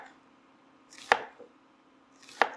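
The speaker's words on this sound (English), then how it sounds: "we are gonna quickly get half an onion in slices, like pretty big slices" Two sharp knife strokes cut through half an onion into big slices on a board, each a single crisp chop about a second apart, close and clear against a quiet background.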